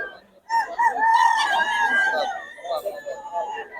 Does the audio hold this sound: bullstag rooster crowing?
yes